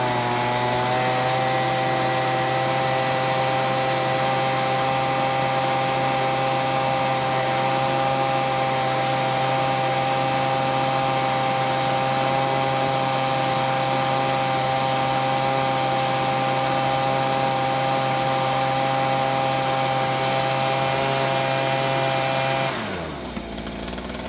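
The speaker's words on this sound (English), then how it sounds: "The very first one we're going to use today is my trusty little BG55 blower right here, a steel blower." A Stihl BG55 leaf blower running at a constant high whine with strong steady engine harmonics, close and loud for over twenty seconds before it abruptly cuts off near the end.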